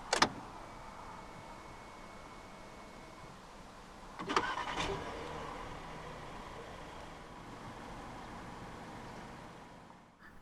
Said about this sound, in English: To start the Alhambra, put your foot on the brake, insert the key into the slot right here, and twist the key like you would in a normal car.